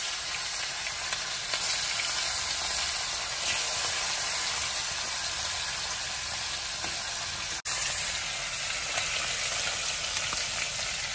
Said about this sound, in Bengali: কড়াইতে তেল গরম হয়ে গেছে।